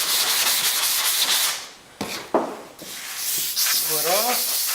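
Steady abrasive rasp of hand sanding body filler on a fiberglass panel, long back-and-forth strokes close up, pausing briefly midway before resuming.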